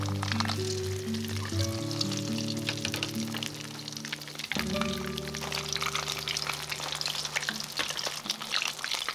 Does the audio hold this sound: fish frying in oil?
yes